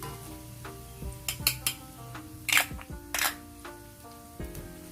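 Garlic and spring onion going into hot chili oil made with virgin coconut oil, giving a soft crackling sizzle broken by several sharp metallic clinks of a utensil against the pan, close and fairly quiet.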